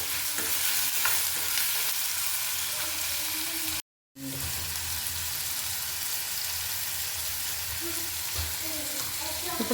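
Sliced onions fry in hot oil in a pan, with a steady sizzle broken by repeated scraping stirs and a brief gap of silence midway, heard close up without voices.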